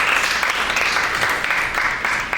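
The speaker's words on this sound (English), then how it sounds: "Let's give her a round of applause." Audience applause for a woman panelist from FAO being introduced at a UNGA80 high-level forum, steady dense clapping from a crowd filling the room throughout.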